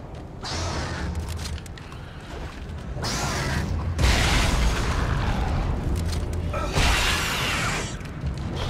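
Force gun blasts in the video game Dead Space 2, several heavy booming whooshes spaced a few seconds apart, loud and close over a rumbling mechanical backdrop.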